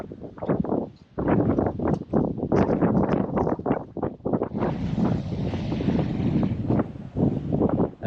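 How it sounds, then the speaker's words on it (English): Gusty wind in a park on a Sydney headland buffets the microphone in a steady, rough rumble that grows into a broader rushing hiss partway through. "It's quite windy here."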